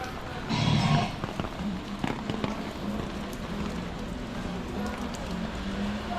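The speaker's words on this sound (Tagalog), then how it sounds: "Umuulan pa ngayon ha." Steady rain patters on surfaces outdoors in the Philippines at a cheap e-bike shop, a continuous wash of drops with a brief louder burst near the start.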